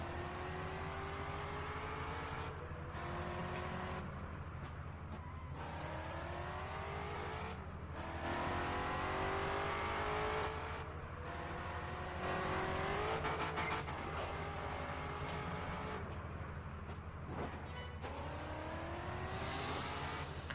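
Race cars in Project Gotham Racing 4 on Xbox 360, steady engine drone with rising and falling revs through gear shifts, an opponent car overtaking nearby, and no talk.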